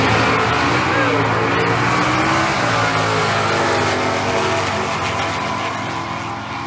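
Stock class drag race cars launch down the strip, a loud sustained engine roar that rises in pitch and then slowly fades as the cars pull away, with an announcer talking over it.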